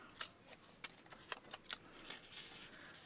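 A small vintage paper ticket tearing by hand, a series of short, crisp rips and crackles, close and fairly quiet, with no voices.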